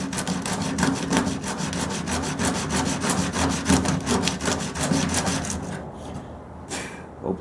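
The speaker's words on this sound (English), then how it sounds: "Saw away on this. Using the edge of that sandpaper like a saw." Sandpaper edge sawed back and forth through a panel gap on a 1929 Chrysler hood, a steady rapid rasping scrape with dense repeated strokes that stops near the end, close and fairly loud.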